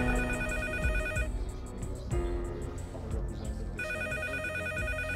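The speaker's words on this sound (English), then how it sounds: "the phone rang" A telephone ringtone plays loudly and close, a repeating electronic ring pattern with a short gap in the middle before the ringing resumes, with no one talking.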